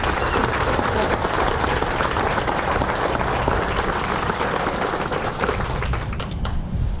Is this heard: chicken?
no